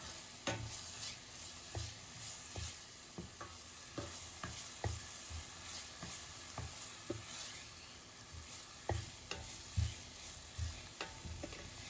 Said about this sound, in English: And just stir it.